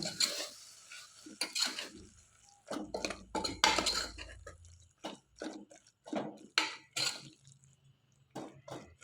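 Utensil scraping and clinking against a pan while ground masala fries for cabbage kurma, with irregular close, fairly loud strokes and pauses between them.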